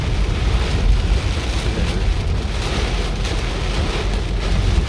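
Heavy storm rain in Wiang Pa Pao, Chiang Rai, Thailand, pouring steadily as a dense, even roar with a deep rumbling undertone, loud and continuous throughout with no voices.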